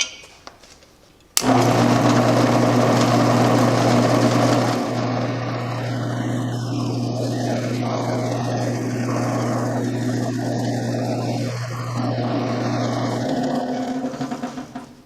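A drill boring a hole through a small steel keychain held by hand rather than in a vise; a loud, steady motor whine starts abruptly after a quiet moment and runs continuously, easing off near the end.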